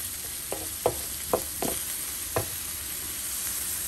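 Green beans, ground chicken and fresh garden tomatoes sauté in a pan with a steady close sizzle, broken by several sharp scraping knocks as the mixture is stirred; nobody speaks.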